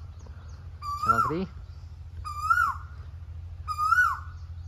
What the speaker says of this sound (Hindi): तुम देख सकते हैं कोयल बोल रही